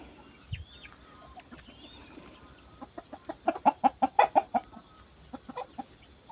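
Chickens and chicks clucking in a coop on a small Brazilian farm, a rapid run of loud clucks building to a burst, with softer scattered peeps and clucks around it and no talk.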